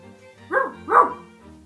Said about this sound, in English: That was my hunting dog.